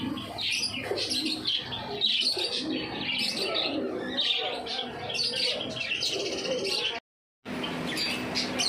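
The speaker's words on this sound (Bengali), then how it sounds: "এখানে চারটে গিরিবাজ পায়রা রয়েছে দেখতে পাচ্ছেন" Giribaz pigeons coo and chirp among other birds at a bird market in Kolaghat, a busy layered chatter of calls with voices murmuring underneath, briefly cutting to silence near the end.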